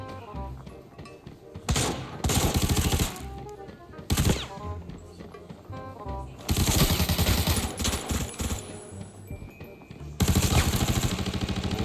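Automatic gunfire from bots in the shooter game Arena Breakout comes in loud, rapid bursts separated by quieter stretches of game ambience, the volleys sounding close and intense.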